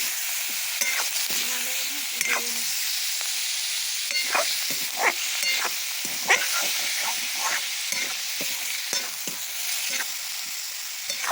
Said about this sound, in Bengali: মাংসটা প্রথমে শুধু লঙ্কা দিয়ে তেল দিয়ে ভাজা হচ্ছে